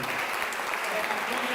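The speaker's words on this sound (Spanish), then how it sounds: "Denle un aplauso al Señor." Steady applause from a church congregation fills the space, a dense patter of many hands clapping at once, moderately loud and unbroken.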